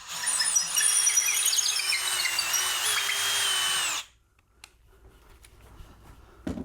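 A power drill boring a 6mm hole through wood whines at a high, steady pitch for about four seconds, then cuts off, leaving near quiet with a few faint clicks.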